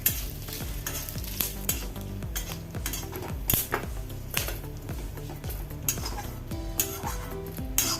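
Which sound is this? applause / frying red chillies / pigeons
frying red chillies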